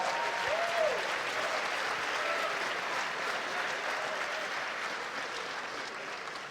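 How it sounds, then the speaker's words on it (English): Steady, sustained applause from a large crowd at an esports awards ceremony, a dense wash of clapping that holds evenly throughout. "Let's give them all a round of applause."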